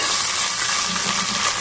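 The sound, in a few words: tomatoes added and stirred into frying onions for fish curry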